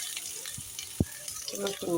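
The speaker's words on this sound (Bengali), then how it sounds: "তেলটা একটু গরম হয়ে গেলে আমি এখানে পেঁয়াজ এবং রসুন দিয়ে দিব" Onions and garlic fry in hot oil in a wok, giving a steady close sizzle with a sharp clack of a stirring utensil partway through.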